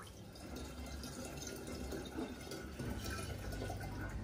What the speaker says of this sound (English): I'm just draining the last of the liquid off that.